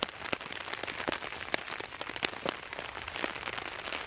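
Steady rain patters on a tarp overhead in an Australian forest, a dense close hiss of drops with sharper individual taps and small splashes scattered throughout, no voices.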